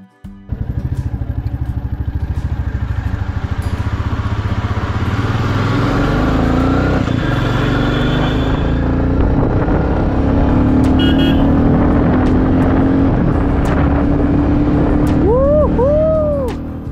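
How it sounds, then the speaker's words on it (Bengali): A loaded motorcycle rides along a road at the start of a long trip, its engine droning steadily and loudly throughout, with passing traffic noise and a couple of horn toots near the end. "এটি আমার প্রথম বাইক রাইড ট্রিপ"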